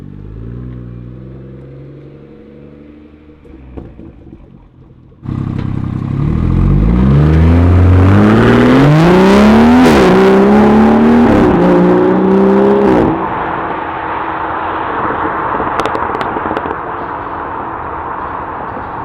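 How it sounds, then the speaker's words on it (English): A BMW X4 M40i's B58 engine fitted with a Dinan exhaust and cold air intake starts up and revs hard, rising in pitch through several loud pulls before settling into a steady, throaty idle, close by with no talking. "We have the Dinan exhaust and cold air intake on this X4 M40i. This B58 sounds so much better."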